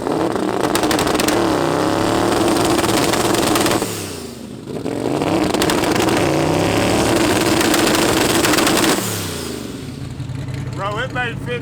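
A 2,600 hp Honda drag car's engine roars loud and close, holding a hard, raspy drone that dips briefly twice before surging back; a voice comes in near the end.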